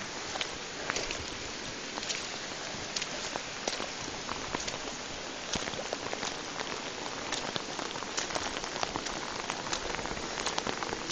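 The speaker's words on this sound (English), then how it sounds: "here you can see we've got our lovely waterfall" A waterfall along a muddy jungle trek in Costa Rica, giving a steady, dense rushing hiss of falling water that continues without break for the whole stretch, close and fairly even in loudness.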